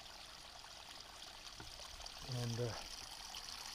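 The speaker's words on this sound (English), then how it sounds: "here's the creek" Creek coming down a hillside at a hammock campsite, a faint, steady hiss of flowing water in the background, with a brief spoken word over it.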